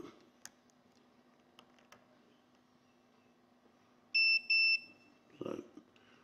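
A multimeter in continuity mode gives two short, loud beeps as its probes touch the terminals of a micro switch, then a brief rustle. The background is otherwise quiet.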